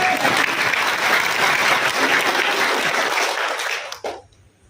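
A church congregation breaks into loud, dense applause that holds steady, then cuts off abruptly near the end, leaving near quiet.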